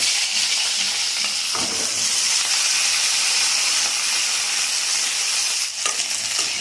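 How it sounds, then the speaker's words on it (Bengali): Green beans and cut eggplant fry in hot oil in a pan, a steady close sizzle with a couple of brief stirring knocks, no voices. "এবার আমি দিয়ে দিচ্ছি শিম আর যে বেগুনগুলো কেটে রেখেছি ওগুলোকে আমি দিয়ে দিচ্ছি।"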